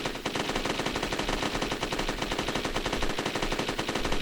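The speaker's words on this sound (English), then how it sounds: "So we got our gunshot sound playing every single time that we press that Y button" Gunshot sound effect added to Super Mario 64 through a Lua mod, fired over and over in a rapid, steady stream of crisp shots like a machine gun, loud and continuous throughout with no talking.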